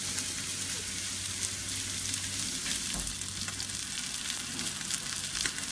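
A pork roast browns in a hot pan, sizzling and crackling in a constant close hiss with small pops scattered throughout.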